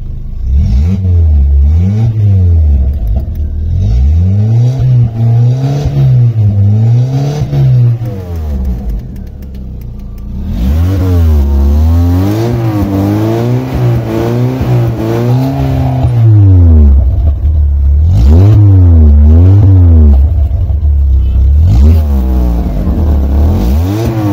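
A Volkswagen Golf engine revs repeatedly in rising and falling waves, loud and close with a raw, open exhaust roar, building to harder revs near the end.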